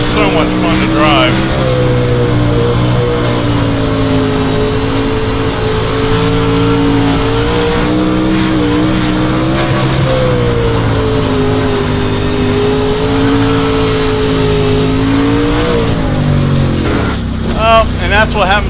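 A DIRTcar Pro Late Model race car engine in the iRacing simulator roars continuously at high revs, its pitch rising and falling through corners for the whole stretch, with a voice speaking over it.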